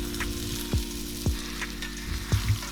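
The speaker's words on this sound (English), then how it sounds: "Make sure that you get the edges so it's seared all the way around." A chuck pot roast sears in a hot pan with a soft, steady sizzle, broken by several sharp thumps and scrapes as the meat is turned to brown its edges.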